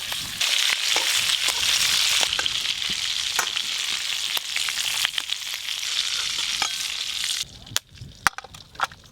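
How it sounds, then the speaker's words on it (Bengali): Whole garam masala spices sizzling in hot oil for chicken kosha: a loud, crackling sizzle with popping bursts and spoon scrapes, dropping to quieter scattered clicks and knocks near the end. "এই তেলে গোটা গরম মশলা ফোড়ন দিয়ে দেবো।"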